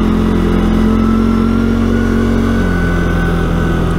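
A CFMOTO CFORCE 520 L ATV drives along a trail with a little snow left on it, its engine a close, steady, loud drone with a slight rise in revs and no voices.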